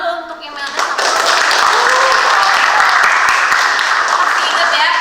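A classroom of students applauding together: sustained, dense clapping that swells after a brief quieter opening and stays loud and steady to the end.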